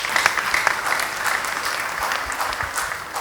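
A church congregation breaks into dense, steady applause that carries through all three seconds, many hands clapping close and loud with no voices standing out.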